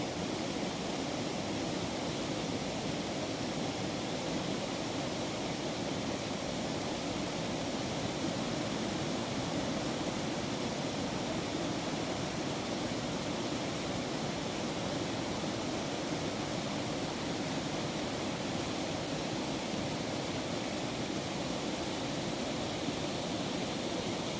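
A waterfall roars in a steady, dense broadband rush, unbroken and constant throughout with no voices.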